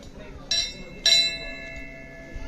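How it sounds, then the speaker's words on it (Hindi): A bell at a Hindu mata temple, rung by a pull from some distance away, clangs twice in quick succession, each strike ringing on bright and clear before fading. "माता की घंटी यहीं से बजाई जाती है। अब देखो मैं यहाँ से बजा रहा हूँ ऊपर तक"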